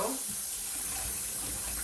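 Cold tap water runs steadily into a kitchen sink for washing celery, a continuous close hiss and splash with faint handling underneath.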